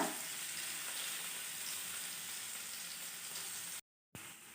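Paneer cubes fry in a pan of hot, spattering oil, a steady close sizzle with crackling pops that runs unbroken before cutting out briefly near the end, then resumes.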